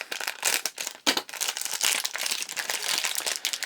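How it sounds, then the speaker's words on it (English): Plastic bags from Treasure X toy packaging crinkle and rustle close up, continuous busy crackling with sharp bursts, no talking. "I don't need to add extra crinkling noises to this video. We have enough plastic bags in here."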